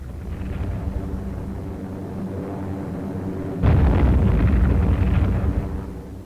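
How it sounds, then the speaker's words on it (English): Allied planes bomb a Japanese amphibious invasion force at Milne Bay, New Guinea, in a 1951 wartime newsreel. A continuous low aircraft drone and rumble gives way midway to a sudden, louder explosive roar that lingers. "Allied planes went to work on the enemy amphibious force."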